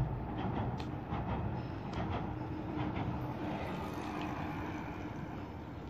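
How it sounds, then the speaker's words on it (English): A long train rolls steadily past near Stratford, London, giving a continuous broad rumble and rattle at constant loudness with no pauses. "That's quite a long train, that one."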